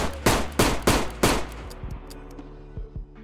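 Revolver shots in the DayZ video game: four loud, sharp reports in quick succession with ringing tails, followed by fainter clicks and small mechanical knocks from the cylinder.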